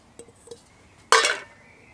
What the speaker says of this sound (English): Pan to boil the water, 2 pans to cook food in, a plate and a frying pan. This is a carbon steel frying pan.